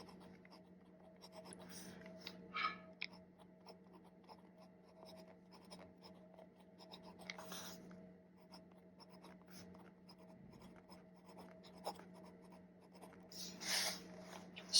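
Fine-nib fountain pen writing on paper, faint scratchy strokes at low volume, with a few slightly louder bursts of nib contact against a steady quiet background hum.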